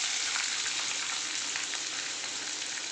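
Onions sizzle in hot oil with mustard seeds, curry leaves and green chillies in a pan, frying steadily with a bright crackle and faint stirring, close and continuous with no voices.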